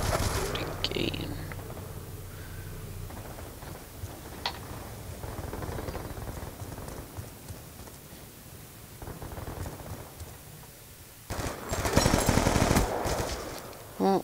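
Gunfire in the video game Black Ops 2 rattles fairly quietly through a noisy background, then swells into a louder, denser burst near the end.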